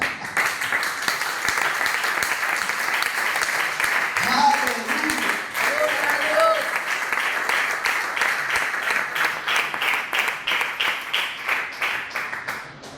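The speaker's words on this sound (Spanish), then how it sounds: "Le dimos un aplauso al Señor." A church congregation claps for the Lord, a dense wash of applause running steadily throughout, with a brief voice or tonal sounds rising briefly partway through.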